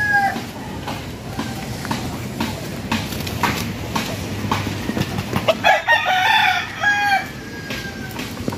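Rhode Island Red chickens cluck and a rooster crows over a busy outdoor farm background, with scattered calls throughout and a louder burst of crowing near the end.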